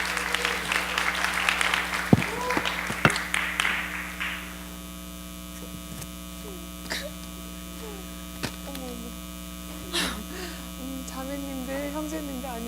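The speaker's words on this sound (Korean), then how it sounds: "박수로 환영해 주시면 좋겠습니다" A church congregation applauds to welcome a speaker, with a burst of clapping that fades after a few seconds and leaves a steady electrical hum with scattered small noises.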